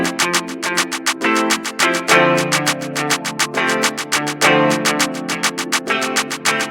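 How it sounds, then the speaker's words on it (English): A programmed drum clap pattern without kicks, rapid claps alternating between louder and softer hits in a steady stream over a low synth tone. The loop is loud and close, with no voices. "effect of the claps going like ta ta ta ta ta ta ta ta ta ta ta ta"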